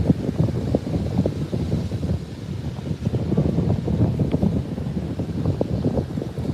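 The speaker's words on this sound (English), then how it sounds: "I just don't think this wind's going to settle down" Gusty wind buffets the microphone at an Australian beach, a loud low rumbling roar that surges and dips in uneven bursts, with no voices.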